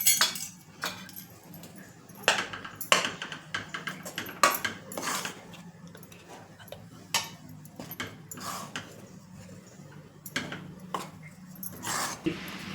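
Wheat flour roasting in ghee in a pan for methi ladu, stirred with a spoon that scrapes and clinks against the metal in irregular close strokes over a low background hum.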